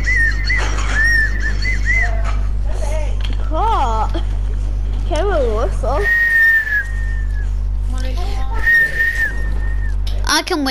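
A person whistles during a Fortnite match, a run of short melodic whistled phrases and warbles over a constant low hum of game audio, with people talking intermittently alongside.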